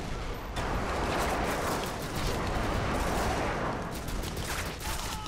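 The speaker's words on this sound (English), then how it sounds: "Let's get an airstrike on these guys." Airstrike explosions in Modern Warfare 2 roll in as a sustained, heavy barrage of booms and gunfire, loud and continuous for several seconds with no speech.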